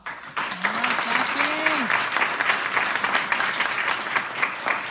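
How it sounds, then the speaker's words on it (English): An audience welcomes a speaker at an empowerment event with lively clapping that starts abruptly and continues for several seconds, with a voice briefly calling out over the applause near the start. "Let's welcome Jacqueline King with a big round of applause."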